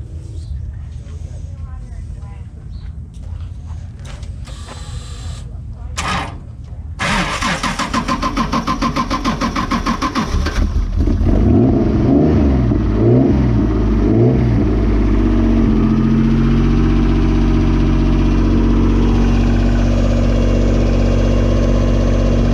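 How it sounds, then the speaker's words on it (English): An off-road vehicle at Glamis sputters and catches, then revs up into a loud, steady roar after a quick tap of the gas, with people talking nearby during the first half. "Give it a tap to the gas, huh?"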